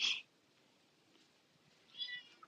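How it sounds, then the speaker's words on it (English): A cat meows twice, faint and a little distant, once at the start and again near the end, with quiet room hush between. "I don't know if you guys can hear him meowing."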